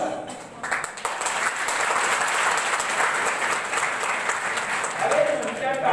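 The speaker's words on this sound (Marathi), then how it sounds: "काही पोरं टाळ्या वाजवत आहेत मिशनची" A crowd at a speech gives sustained, fairly loud applause that rises after the first second and keeps going to the end, with voices talking over it.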